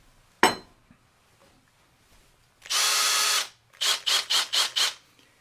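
Battery electric drill revving, a sharp knock followed by one sustained loud whir, then a quick series of five short bursts of the motor, close and alone.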